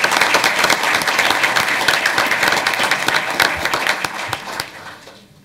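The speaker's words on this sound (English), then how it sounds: "So let's give her a round of applause." An audience at an awards presentation evening gives a round of applause, dense, loud clapping that holds steady and then fades away over the last second.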